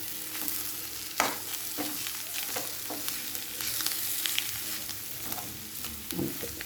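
Crab curry being stirred in a pan on the stove, with a steady sizzle under repeated scraping and stirring strokes and a sharp knock near the start, close and moderately loud.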